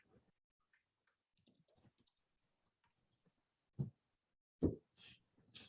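Light clicks on a computer keyboard, sparse and faint, followed by a few louder knocks and a short bit of speech.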